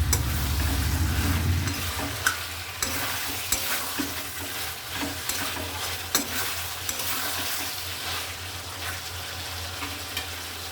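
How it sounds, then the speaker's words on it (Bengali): Chicken sautéed in mustard with salt sizzles steadily in a pan, with repeated scraping stir strokes over a continuous frying hiss, close and fairly loud with no voices. "এবার আমি পরিমাণ মতো লবণটা দিয়ে দেবো। লবণটা দিয়ে আর একটু কষিয়ে নেব।"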